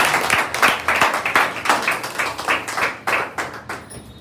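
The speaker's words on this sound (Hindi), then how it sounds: "जोरदार तालियां" Rhythmic clapping from a group in a hall, heard as a steady series of about a dozen evenly spaced, fairly loud claps, with no talking.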